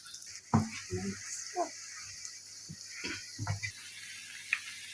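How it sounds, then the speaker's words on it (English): Doughnut dough frying in a pan of hot oil gives a soft crackling sizzle with a few brief clinks and bursts, fairly quiet and close. "Now we are going to fry this in hot oil, like so."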